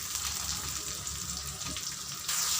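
Sliced eggplant frying in a pan with ginger paste and chilli paste, giving a steady broadband sizzle, close and fairly loud throughout, getting briefly louder near the end.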